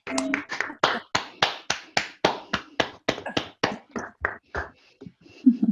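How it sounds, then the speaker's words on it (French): A small group claps together over video call microphones, giving distinct, evenly spaced claps that sound close and slightly clipped before trailing off, with a voice at the end. "Est-ce qu'on peut tous juste allumer nos micros et applaudir"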